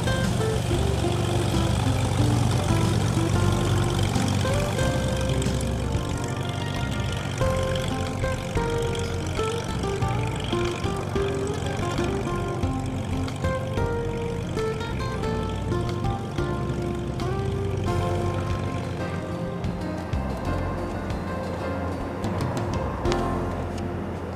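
Propeller airplane taxiing at Falcon Field in Mesa, Arizona, its engine a steady, close, droning hum with a faint rhythmic beat that holds for the whole stretch with no talk.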